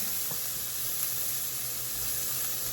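Garlic sizzles steadily in a hot pan over softened yellow onions, a soft continuous frying hiss with no talk.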